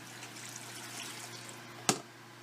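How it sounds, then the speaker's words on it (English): Two cups of water are poured into an Instant Pot while making a vegan greens stems soup, giving a steady, soft liquid wash that ends with a single sharp clink or splash near the end. "So I'm just going to go ahead and put 2 cups of water in."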